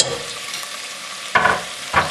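Short ribs tossed in a pan with paste after the fat is drained, a soft sizzle followed by two sharp scraping stirs near the end.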